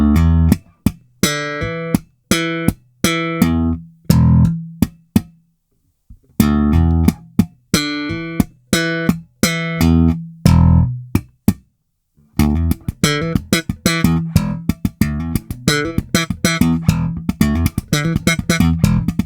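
Electric bass slapping a funky groove, first slowly and then at a quicker pace, made of dense thumped, popped and ghosted notes. The bass is close and loud with no talking, and after a brief pause the notes grow faster and busier.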